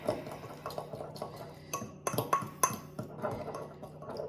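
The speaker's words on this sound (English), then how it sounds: "Let's give it a good stir" Salted caramel stirred in a pot, quiet and close, with a scatter of light clinks and scrapes of a utensil against the metal, a few sharper taps clustered in the middle.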